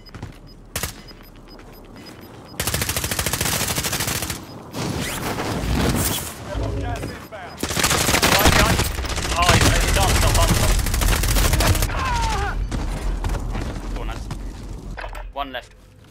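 Bursts of automatic video-game gunfire in a team shooter match, with loud rapid volleys and scattered single shots running through most of the stretch while players talk over the action.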